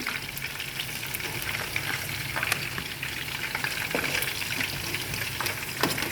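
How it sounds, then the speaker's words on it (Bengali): Chicken frying lightly in a pan gives a steady close sizzle, with occasional stirring clicks and scrapes running through the whole stretch, and no voices. "অনেক কড়া করে বাজি নাই হালকা বাজা দিছি"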